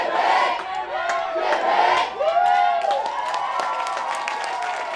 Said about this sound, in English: Congratulations to Odyssey, who are leading a little bit of a cheer right now.